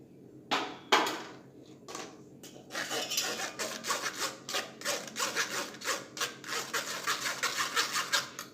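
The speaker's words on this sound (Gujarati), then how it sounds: "આપણે જેમાં પાણી બનાવવાનું હોય એ વાસણ લઈ એક ગરણી મૂકી અને આપણે" Raw mango paste for pani puri water is pushed through a sieve into a vessel, giving repeated close rasping scrapes that speed up into a steady rhythmic scratching.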